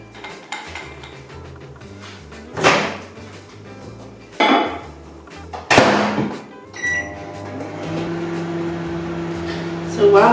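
A bowl of butter and chocolate goes into a microwave oven after several sharp clinks and clatters of kitchenware; the oven then settles into a steady, droning hum.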